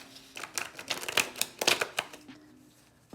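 A thick deck of tarot cards shuffled by hand, a quick run of crisp riffling snaps and flutters close up, tapering off into quiet at the end, with no voices.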